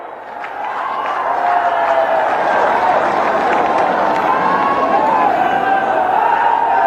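A huge crowd at a political rally in Gorakhpur builds into loud, sustained cheering and chanting. The roar is dense and close and fills the whole stretch without letting up.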